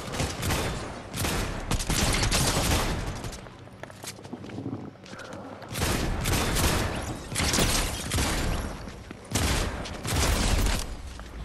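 Rapid bursts of video game gunfire in Fortnite: loud, overlapping volleys of shots with brief lulls between fusillades, continuing throughout.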